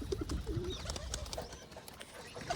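Pigeons coo in a series of soft, low calls close by, set against a busy rustling background with a few brief higher chirps.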